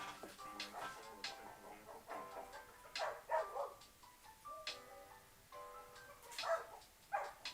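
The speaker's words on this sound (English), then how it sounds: "You hear the dog too, right?" A dog barks in the background in scattered short bursts of several yips, fairly faint, with quiet clicks and rustle, and nobody speaking.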